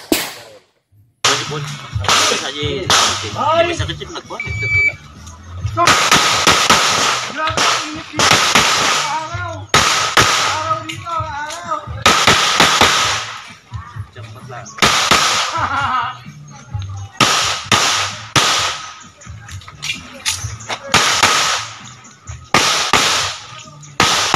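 .22 caliber rifle shots crack at a shooting competition, a long series of sharp, loud reports at irregular intervals, some in quick pairs, with people talking faintly between them.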